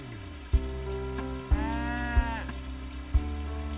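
Cow lowing from the Harvest Moon: Tree of Tranquility farming game, a synthesized moo with a rising tonal call in the middle, over a steady hum with a few sharp thumps.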